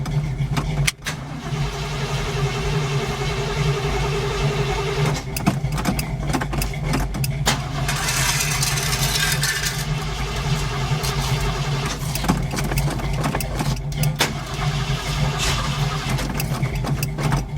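A 1974 Ford Bronco engine cranks and catches, then settles into a steady, close idle with rough stumbles and uneven surges, loud and unbroken across the whole stretch.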